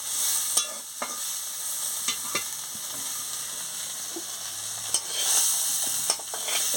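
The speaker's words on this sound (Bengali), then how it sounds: "বন্ধুরা, আনাজগুলো অল্প করে আমি ভেজে নিয়েছি।" Chopped vegetables frying lightly in a pan, a soft continuous sizzle punctuated by several sharp spatula clicks and scrapes against the metal.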